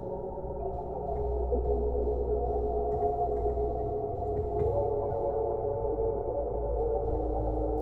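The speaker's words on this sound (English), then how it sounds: "this homemade reverb shimmer" A homemade shimmer reverb built from stock Bitwig devices, a reverb with a pitch shifter, rings out as a sustained, washy tonal drone that holds steady and alone throughout.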